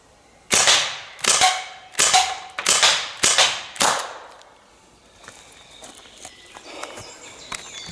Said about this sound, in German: Das waren die ersten Schüsse, die ich damit gemacht habe